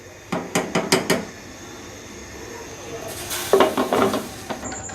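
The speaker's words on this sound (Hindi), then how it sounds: "अब मैं इसको 10 मिनट के लिए वेट लगा रही हूँ।" A weight set onto a pressure cooker of daal gosht, a run of four or five sharp metallic clanks, then a hissing, clattering stretch of metal handling in the kitchen.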